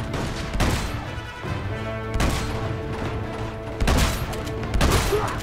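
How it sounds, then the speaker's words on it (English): Gunfire rattles through an Uncharted 2 firefight in several sharp bursts with crashing impacts between them, loud and close, with no talk over it. "Who is shooting?"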